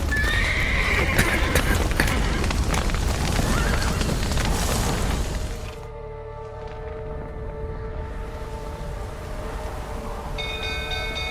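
Horses from The Witcher 3: Wild Hunt clop and neigh loudly amid busy game noise, then the scene cuts to a quieter, droning ambience.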